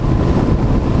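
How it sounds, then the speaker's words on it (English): Heavy wind buffets the microphone while riding a motorcycle without a windshield, a dense, low roaring rush that stays loud and steady throughout. "it's windy as junk"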